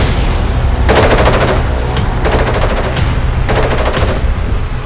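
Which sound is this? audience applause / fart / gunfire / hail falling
gunfire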